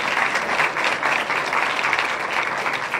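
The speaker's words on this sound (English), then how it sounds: "I'd like to give them a round of applause" An event audience at a business awards gathering gives the sponsors a round of applause: loud, full, continuous clapping from a sizable crowd, sustained evenly throughout without any voices.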